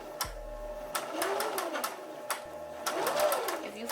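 A sewing machine stitches wig fabric in short bursts, running forward and reversing several times with brief pauses between runs, close and clear with no talk.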